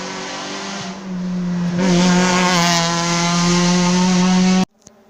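Rally car at a French regional rally, a loud close engine drone that swells as the car approaches and holds steady, then cuts off abruptly, followed by a faint brief pop.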